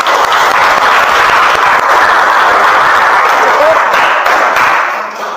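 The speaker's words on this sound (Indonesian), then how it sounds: "Oke, tepuk tangan untuk kita semua." A classroom of children claps together in a loud, continuous burst close by, holding steady before tailing off at the end.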